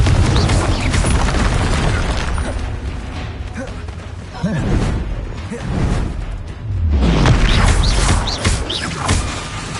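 Confringo blasting spells burst in a Harry Potter video game, heavy booming explosions and crashes landing repeatedly amid noisy action, with a person speaking throughout.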